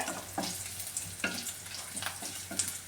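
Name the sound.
curry leaves, shallots and dried chillies frying in oil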